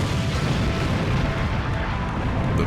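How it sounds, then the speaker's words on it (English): Explosions from a bomber attack in an anime: a dense, continuous wall of deep rumbling blasts and booms, loud and sustained throughout, with no voices. "Helmios emerges, only to be hit with more explosions."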